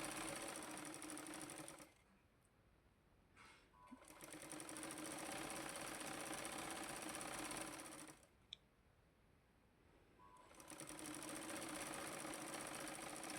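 A sewing machine stitches a strip for a puff blouse sleeve, fast rattling runs close by, stopping twice for a couple of seconds each before starting again.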